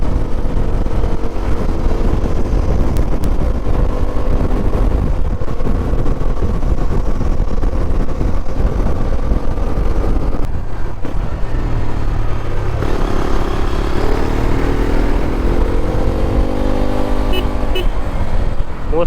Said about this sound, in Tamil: இந்த எக்ஸாஸ்ட் நோட் எனக்கு ரொம்ப பிடிச்சிருக்குங்க